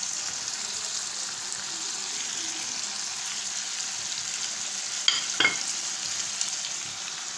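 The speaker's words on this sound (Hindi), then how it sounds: "कढ़ाई पकना शुरू हो चुकी है" Chicken karahi with potatoes, whole spices and green chillies cooks in a wok, giving a steady, even hiss of frying throughout, with a couple of brief metallic clinks about two-thirds of the way in.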